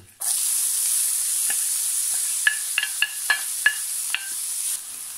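Chopped onion and red pepper sizzle steadily in olive oil in a pan, a constant close hiss broken by several sharp clicks and scrapes of a utensil stirring the vegetables.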